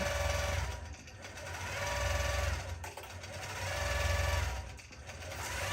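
An embroidery machine stitching out a mermaid tail pattern, a fast, steady mechanical whirring chatter close by that swells and eases in cycles with brief pauses, running alone without talk.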